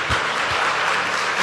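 Congregation in a church applauding together, a steady dense wash of clapping that fills the space for the full moment, loud and close with no voices rising above it.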